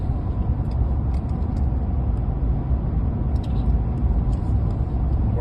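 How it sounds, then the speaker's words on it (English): Car cruising along Okanagan Lake, heard from inside as a loud, steady low road and engine rumble that runs unbroken with no talking. "I'm driving along one of our major lakes called Okanagan Lake"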